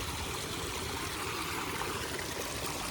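Overflowing water rushes at the foot of a hill near fields during the monsoon, a dense, constant broadband roar of flowing water with no pauses.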